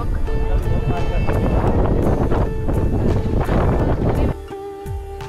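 Strong coastal wind at the Vivekananda Rock Memorial in Kanyakumari buffets a GoPro microphone with loud, continuous rumbling gusts. A voice speaks through the noise, and the wind eases slightly near the end.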